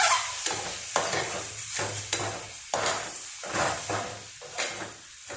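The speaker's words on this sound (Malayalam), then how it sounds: "ഈ മുട്ട ഇതിലേക്ക് ഇടുക" An egg going into frying masala in a pan, with repeated scraping stirs about every half second over a steady sizzle, close and fairly loud.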